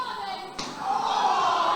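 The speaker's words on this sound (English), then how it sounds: "Did you hear the thud on that chop?" A chop lands in a professional wrestling match at an indoor event center, giving one sharp, heavy smack midway, followed by a swelling, sustained crowd din.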